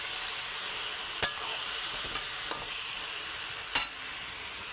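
Ridge gourd pieces tossed into a pan of cooked-down spiced masala with dried chili, frying in a steady close hiss, punctuated by three sharp spatula scrapes at uneven intervals, with no talking.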